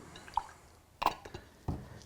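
Water tinted with brown paint is poured into a Sculptor Mold mix for model railway scenery: a few soft, close drips and wet squishes spaced across a quiet moment, with no talking.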